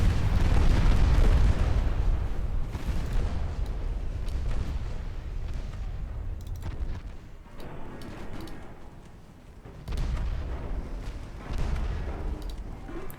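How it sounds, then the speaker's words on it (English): In a naval video game, the transport ship Helgoland explodes with a loud, rolling rumble that stays heavy for several seconds, fades, then swells again in further deep booming bursts. "Transport Helgoland exploding."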